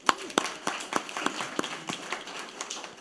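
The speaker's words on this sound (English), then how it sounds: "Let's clap it up for that." Attendees at a regular public meeting clap for a district championship, with scattered, distinct hand claps at an uneven rhythm, fairly sparse and moderately near, and a faint voice underneath.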